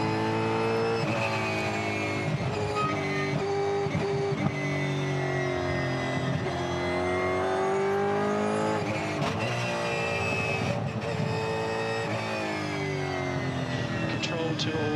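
Repco Supercars race cars at The Bend in 2025 roar past on track, loud sustained engine howl with shifting pitch as cars pass, blended with commentary talk.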